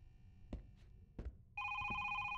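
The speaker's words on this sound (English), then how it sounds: "Called my phone." A telephone rings with a steady, loud electronic trill that starts partway through and continues to the end, after a few soft knocks and muffled background sounds.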